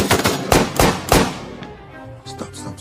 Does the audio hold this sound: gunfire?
yes